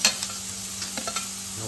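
Garlic, onion, tomato and chilli fry in oil for a pasta masala, giving a steady close sizzle broken by a few soft stirring scrapes and a brief clatter at the start and end.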